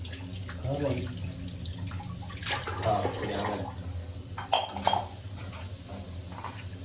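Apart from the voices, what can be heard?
water scooped with a glass and poured into pot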